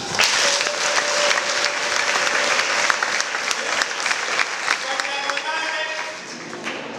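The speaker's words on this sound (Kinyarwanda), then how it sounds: "Muri Imana amashyi." A congregation at a church Christmas service claps together in a dense, sustained burst of applause, with raised voices mixed in, before it thins out near the end.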